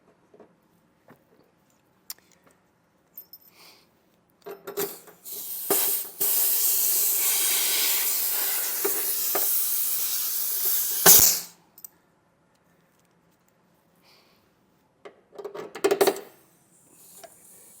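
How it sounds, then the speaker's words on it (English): Air hissing from the hose of an onboard air suspension compressor, part of an Air Lift WirelessAIR system on a 2023 Ford. A steady, fairly loud hiss lasts about six seconds, with scattered clicks and handling knocks before and after. "Then you have your air hose to air up tires, whatever you need to do, a ball."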